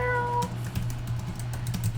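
A cat gives a short meow at the start, followed by quick keyboard-like tapping over a low steady hum.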